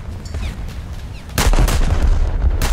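Guns on the Leonardo da Vinci battleship fire in War Thunder, a loud booming salvo bursting in partway through and rolling on with heavy rumble, preceded by quieter distant battle noise.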